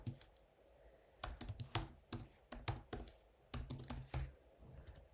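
Fingers type a password on a computer keyboard in short, irregular bursts of close, crisp key clicks separated by brief pauses, quiet and with no voices.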